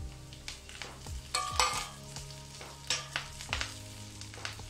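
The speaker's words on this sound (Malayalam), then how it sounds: "ഇപ്പൊ നമുക്ക് അതിലേക്ക് ഈ കറിവേപ്പിൻ്റെ കൂടി അങ്ങനെ ഇട്ട് കൊടുക്കാം" Curry leaves fry in a pan of spiced oil, giving a quiet, close sizzle broken by repeated scraping and tapping strokes of a stirring spoon.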